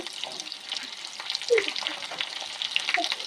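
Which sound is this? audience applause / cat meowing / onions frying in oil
onions frying in oil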